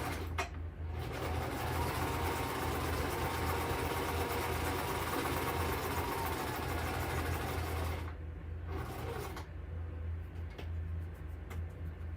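A sewing machine stitches on a card, running with a steady mechanical whir. It pauses briefly near the start and twice toward the end, with no talking.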